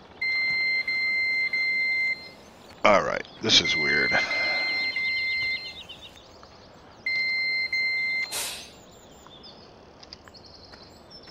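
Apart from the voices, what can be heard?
tractor parking brake warning beep, Farming Simulator 17 video game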